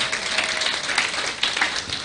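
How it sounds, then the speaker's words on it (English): Church congregation at a ladies' night service applauding, a steady wash of many hands clapping for about two seconds, moderately loud and without talk. "Are you clapping?"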